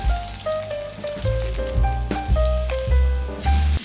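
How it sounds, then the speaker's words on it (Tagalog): Chicken pieces being browned on both sides in hot oil in a pan, a steady sizzle running underneath louder melodic background music. "i-brown ang magkabilaang side ng chicken."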